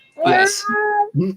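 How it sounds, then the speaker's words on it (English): A hungry cat lets out a short, close meow, rising and then dipping, with a quick word spoken just after. "I don't know if you can hear them meowing."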